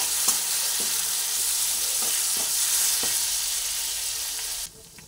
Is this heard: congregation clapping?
no